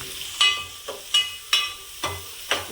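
Onions frying in oil in a pan for a Telugu drumstick tamarind stew (munakkaya pulusu), heard as five sharp sizzling bursts roughly half a second apart, each hiss flaring and fading as pieces are tossed or stirred, fairly close with no talk.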